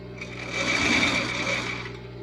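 A sewing machine runs steadily as it stitches a seam on a strappy dress with a ruffle, with a close, continuous motor whir and needle hum that swells slightly and then eases.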